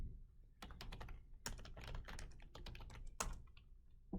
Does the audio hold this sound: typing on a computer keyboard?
yes